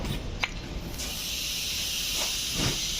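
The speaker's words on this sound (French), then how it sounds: "Je vais allumer ma bouteille de gaz." A gas bottle torch lit inside a camper van conversion gives a steady, loud, close hiss that runs almost the whole time after a brief ignition burst.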